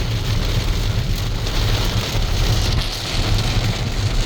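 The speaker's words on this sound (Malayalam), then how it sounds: "നല്ല മഴ കേട്ടോ പുറത്ത്" Heavy monsoon rain pouring down outside in Wayanad, a dense steady patter with a low rumbling undertone throughout.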